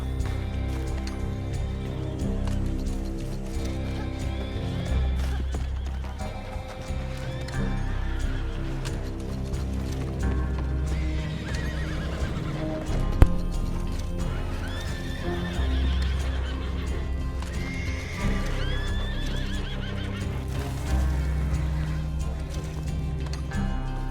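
Horses in the Red Dead Redemption 2 video game whinny and neigh repeatedly over steady clip-clopping hooves, with a continuous rumbling backdrop and one sharp brief crack midway.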